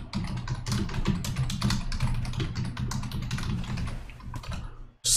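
Rapid, continuous typing on a computer keyboard produces a busy clatter of close, loud key presses in an irregular rhythm that runs almost the whole time. The typing breaks off with a short gap just before the end.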